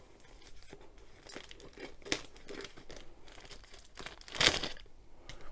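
Crackly ripping and crinkling as tape is torn off packaging, in uneven bursts with one sharper, louder tear near the end.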